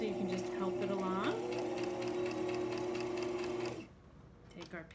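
A sewing machine stitches a seam on a fabric zippered pouch, running in a steady fast whir that stops abruptly near the end, leaving quiet room sound.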